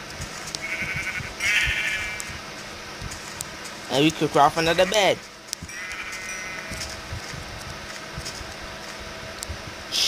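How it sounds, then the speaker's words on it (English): Sheep in Minecraft Pocket Edition bleat in two wavering calls, one near the start and one after a short burst of someone talking, heard over a faint steady hum. "Oh, it's three sheep."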